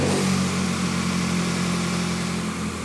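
A Ferrari engine runs just after an oil and filter change, a steady mid-pitched rumble close to the microphone that holds at an even idle for the few seconds heard, alone with no voices.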